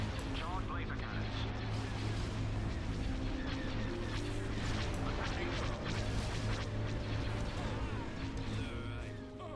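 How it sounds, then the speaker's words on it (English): Rapid laser cannon volleys from capital ships in a Star Wars: Empire at War space battle mod, a dense continuous barrage of zaps and booms layered over steady engine drone and background voices throughout. "Charge laser cannons."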